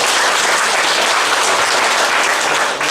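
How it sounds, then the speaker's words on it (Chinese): An audience at a church leaders' training meeting breaks into sustained applause, dense and steady clapping filling the room without pause for about three seconds. "再给他一次掌声"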